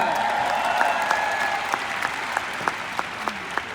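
Keynote audience applauding, a broad wash of steady clapping with a few sharper individual claps standing out near the end, continuous throughout.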